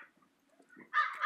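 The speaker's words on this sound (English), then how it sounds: "There's a right murder of crows right there." Several crows cawing together outdoors during an ATV ride with a small dog, a short burst of harsh calls arriving suddenly and fairly close after near silence.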